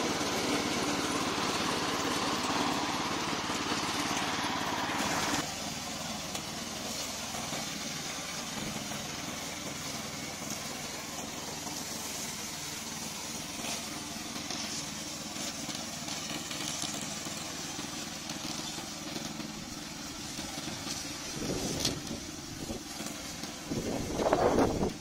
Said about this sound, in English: Today I'm glad to introduce our remote control lawnmower.